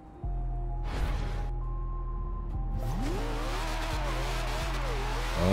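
A McLaren P1 in Forza Horizon 2 drives with a steady, close engine drone whose pitch climbs and wavers as it accelerates, alone and continuous throughout.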